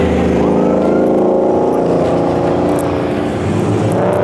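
A supercharged Ford Mustang at a car meet holds a loud, steady engine drone throughout, with a slight swell as it rolls past nearby.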